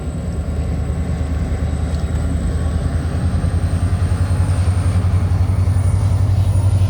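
CN freight train led by NS and BNSF locomotives rolls past at night, a loud continuous low rumble of wheels and engines with rhythmic clatter building, and a steady high whine above.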